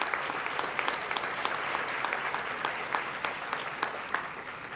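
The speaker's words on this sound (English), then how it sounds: "Let's have another round of applause for the groups." Steady applause from an audience at a youth service awards program, a continuous wash of many hands clapping throughout with occasional sharper individual claps.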